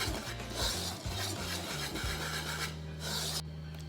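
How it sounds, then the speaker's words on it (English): Dry flour, baking soda and salt whisked together in a bowl for banana bread, a steady close scratchy rasping with quick repeated strokes, alone without talk. "I'm just gonna give it a little whisk to make sure that they're all incorporated"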